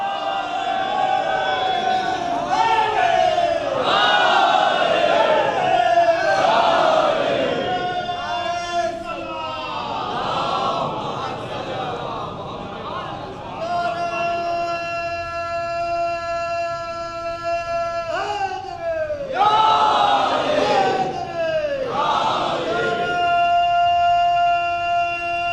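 A crowd at a majlis repeatedly chants the Nara-e-Haidari slogan in loud, rhythmic, echoing call-and-response waves, with sustained howling voices between bursts.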